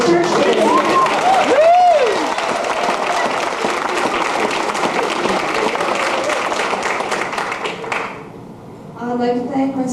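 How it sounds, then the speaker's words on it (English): Wedding guests at a 1991 reception applaud the ushers with a long, steady round of clapping, with a whistle early on; the applause fades out near the end as a voice starts talking. "I'd like a big round of applause for my brother Lou and my big brother Pete for ushering us at the church today."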